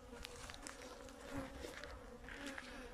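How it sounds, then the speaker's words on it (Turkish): Dense, steady buzzing of many honey bees at close range at a hive in Hatay in January, a continuous hum with individual insects swelling louder as they pass near. "Bu arı iyice uyanmış anlaşılan."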